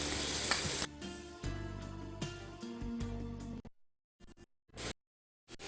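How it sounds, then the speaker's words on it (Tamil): Beetroot drops into hot oil where fennel seeds have fried to light golden brown, setting off a loud, dense sizzle that settles into steady frying with stirring, then trails off into short, quieter bursts of crackle between silences. "இப்போ நான் வந்து இந்த சோம்பு நல்லா லைட் கோல்டன் ப்ரௌன் வந்து பீட்ரூட்டை ஆட் பண்ணுறேன்"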